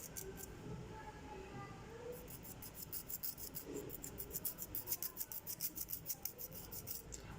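A nail file rubbing lightly over fingernails during an at-home filing session, a soft, fast rhythmic rasping that speeds into even strokes, close and quiet.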